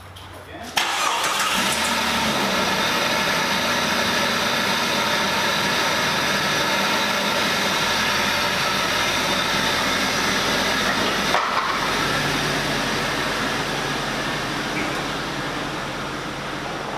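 A 1978 Ford F100 pickup engine runs steadily and loud from start to finish, a continuous close rumble with a brief dip near the middle as the truck pulls out and drives off.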